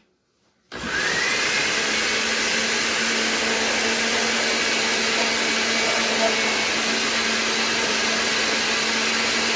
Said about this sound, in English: we're going to blend on high speed, and with the motor running, we're going to add our rendered pork belly fat little by little